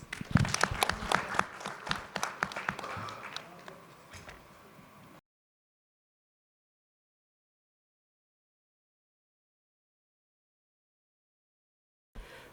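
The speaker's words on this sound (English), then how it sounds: "Please welcome CA Dr. Shah sir with a huge round of applause." At a meet-and-greet gathering, an audience claps to welcome a speaker. The applause starts strong and then fades out over a few seconds, followed by a long silence and a brief faint sound at the end.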